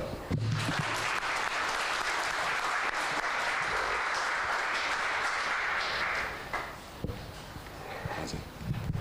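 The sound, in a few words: congregation applauding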